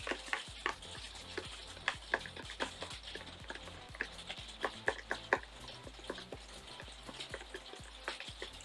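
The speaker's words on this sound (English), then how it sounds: "so we're gonna mix that up" A homemade leave-in conditioner is being stirred in a container, giving quiet irregular clicks, taps and wet mixing sounds close up, with no one speaking.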